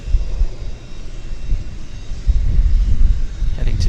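Boeing 787 Dreamliner airliner at Vancouver Airport, heard as a steady low rumbling roar with wind buffeting, moderately loud and continuous throughout.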